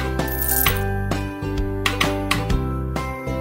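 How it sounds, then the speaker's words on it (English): Hammering nails into a horseshoe in a horse-care video game, heard as a series of sharp metallic clinks and taps over a sustained musical background, several distinct strikes spaced irregularly. "Now, hammer the nails."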